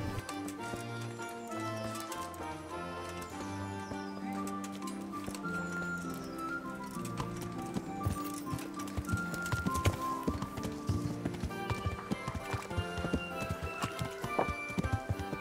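Horse hooves clip-clop in Kingdom Come: Deliverance, a run of uneven hoof taps under a dense musical game score, moderately loud throughout.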